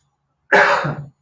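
A single harsh cough, close and loud, rising abruptly out of silence and fading after about half a second.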